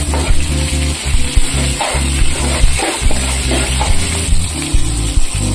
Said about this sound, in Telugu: ఇవి బాగా ఫ్రై అయ్యేలా చూసుకోవాలి